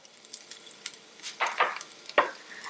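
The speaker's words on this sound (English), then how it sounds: "Now, I am going to add the roughly chopped ginger" Roughly chopped ginger fries in about two tablespoons of hot oil in a pan, a soft steady sizzle with a few louder crackling bursts as pieces hit and move in the oil, close and without talk.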